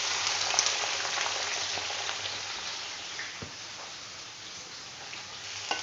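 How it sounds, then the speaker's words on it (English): Onions frying in hot oil for chicken biryani, a dense continuous sizzle and crackle, close and steady, with a couple of faint knocks from the pan and no talking. "And we're going to fry these until they're really nice and dark golden brown."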